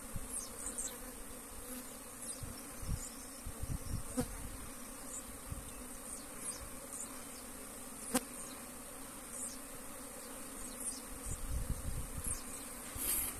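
Bees swarm around a hive box they have rejected, a constant droning buzz broken by several close, louder passes of single insects.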